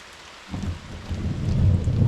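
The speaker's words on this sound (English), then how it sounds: "bigger boom thunder was kind of close" Thunder rumbles low and heavy during rain on a June bike ride, swelling from near quiet into a deep, building roll over a soft wash of rainfall, with no voices.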